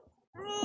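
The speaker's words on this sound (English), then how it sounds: "Cat wants out." A house cat meows once, fairly loud and close, a short rising cry alone after a faint quiet stretch.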